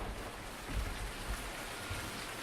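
Steady rain falls in Farming Simulator 2019, a dense, even hiss with a soft low rumble underneath, continuous and close, with no voices.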